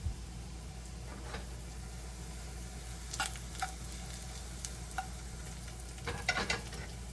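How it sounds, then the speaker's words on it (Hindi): Browned onions fry in a pan under a low continuous sizzle, with a few sharp stirring scrapes and taps clustered near the end and no voices. "प्याज ब्राउन हो चुके हैं।"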